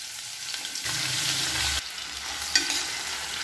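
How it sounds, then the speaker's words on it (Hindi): Potato pieces hitting hot oil seasoned with cumin and asafoetida, a sudden loud sizzle that flares up and then settles into a steady frying hiss, with a brief stirring clatter near the end. "ये हींग डाल देते हैं, जीरा आधा चम्मच, जीरा भुन गया है, आलू डाल देते हैं।"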